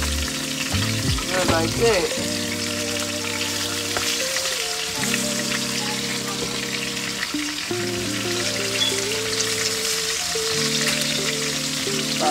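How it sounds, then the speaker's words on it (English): Meat stir-frying in an oiled pan for birria tacos, a steady close sizzle throughout with a voice speaking briefly over it. "Add that meat in there. We're gonna stir fry meat"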